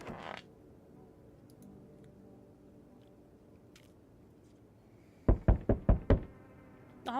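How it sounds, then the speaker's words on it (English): Knocking and banging on a door comes as a lone thump at the start, then after a quiet gap a fast run of five or six loud, hard knocks near the end, followed by one more. "Already banging on my freaking door"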